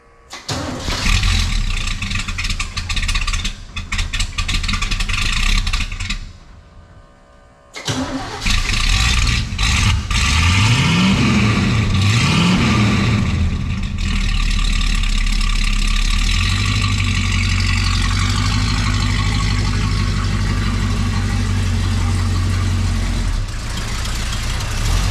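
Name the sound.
truck engine starting and idling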